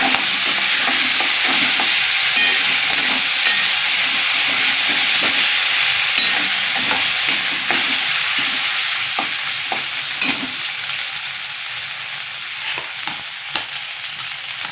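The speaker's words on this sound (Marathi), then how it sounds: "अद्रक लसूण पेस्ट 1 चमचा टाकूया. कढीपत्ता 4-5 पानं. चांगलं भाजून घ्यायचं." Ginger garlic paste and curry leaves roasting in a hot pan for an Indian white peas curry, giving a loud, steady sizzle with scattered ticks and scrapes of stirring, no voices.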